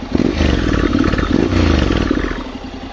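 A Honda Integra 750cc motorcycle engine idles close by with a throaty, pulsing rumble and slight revving swells, loud and unbroken, with no talking.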